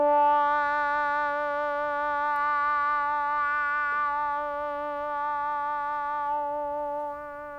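A sustained Arturia MatrixBrute synthesizer voice tone using two formant shifts, with a rich stack of harmonics, holds steady, its vowel-like color shifting slightly before it fades near the end.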